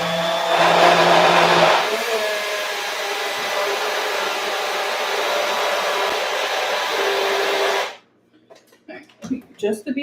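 A blender whizzes cheesecake ingredients in a home kitchen, a loud steady motor whir that surges at first, runs on for several seconds, then cuts off, followed by small clinks and handling sounds.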